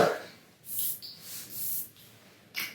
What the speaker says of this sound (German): einen neuen Sprühkopf, der langsamer sprüht und eine größere Wolke sprüht